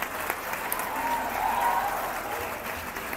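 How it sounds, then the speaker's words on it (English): A crowd at a law moot court competition claps continuously, a dense even patter of many hands with a faint murmur underneath. "There should be more clapping."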